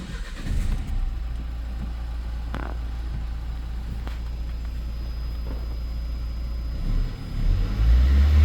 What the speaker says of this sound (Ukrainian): Отже, так, заводимо автомобіль.